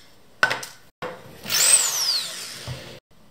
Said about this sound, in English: So I'm gonna drill another hole so I can add the LED to the case.